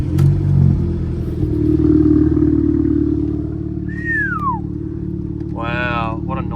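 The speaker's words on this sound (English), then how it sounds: "let's see the cold start of this thing" A cold-weather start of a Lexus ES300 engine: a steady loud idle rumble running throughout, with a brief higher whine midway, a short burst near the end, and some voices over it.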